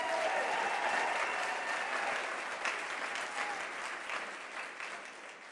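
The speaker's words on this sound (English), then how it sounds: "you should give each of yourself a big round of applause" Applause from a conference audience at CPAC 2026 in Grapevine, Texas: a steady wash of clapping from a large crowd, heard from some distance, that fades gradually over several seconds with no talk on top.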